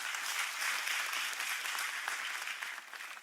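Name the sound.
audience applause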